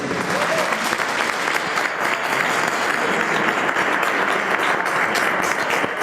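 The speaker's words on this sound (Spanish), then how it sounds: "les voy a pedir un fuerte aplauso para la señora Elena" An audience at a talk applauds a woman who is joining the presentation as a patient, with dense, steady clapping that holds at full strength for the whole stretch and never tapers.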